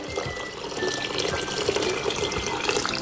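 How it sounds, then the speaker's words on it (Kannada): Five to six cups of water pour steadily from a tap or vessel into a pan for gluten-free khichdi, a continuous close splashing rush that lasts throughout without a break. "ಅದರಿಂದ ನಾನಿಲ್ಲಿ 5 ರಿಂದ 6 ಕಪ್ನಷ್ಟು ನೀರನ್ನ ಹಾಕ್ಕೊತಾ ಇದ್ದೀವಿ"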